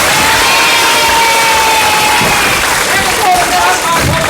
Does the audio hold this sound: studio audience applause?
yes